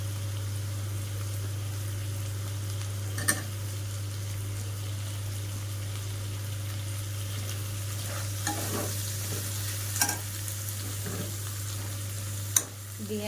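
Green chillies and chopped tomato frying in a pan for a coconut tengra fish curry, a steady close sizzle under a low hum with a few sharp spatula scrapes and taps scattered through.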